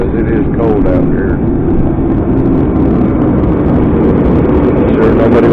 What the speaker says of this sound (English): I'm sure nobody wants to hear this heater going in the background